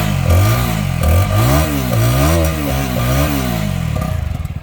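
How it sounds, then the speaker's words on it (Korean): A CF Moto 300SR motorcycle, a 2023 model, revs its exhaust hard several times in a row, each loud, close throttle blip rising and falling, before settling back toward idle. "머플러 음 한번 들려볼까요? 쭉 한번 땡겨보실까요"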